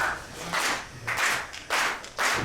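A wrestling crowd claps in unison to rally the fallen wrestlers, making a rhythmic run of loud, evenly paced claps from many hands, heard alone without talk.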